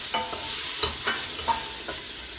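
Vegan collard greens stirred in a pot, a few quick scraping strokes over a soft sizzle, heard up close in a short burst.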